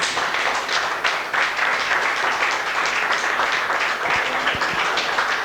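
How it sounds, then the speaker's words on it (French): Sustained audience applause greeting a guest on a Congolese music television special broadcast from Lausanne, Switzerland; dense, loud, steady clapping from a crowd for the full stretch. "on l'applaudit comme il se mérite, Yannene Gonçalves."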